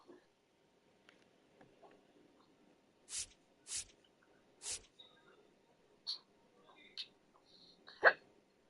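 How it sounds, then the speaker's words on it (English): Several hiccups from a person, sharp and close, spaced irregularly with brief quiet between them and a faint voice murmuring around them. "Oh, goodness, I got the hiccups."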